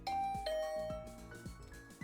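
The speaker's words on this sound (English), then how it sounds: "I rang the doorbell." Doorbell in the video game The Hundred Line: Last Defense Academy, a clear ding-dong chime that rings twice with bright ringing tones over a soft game music background, no talking.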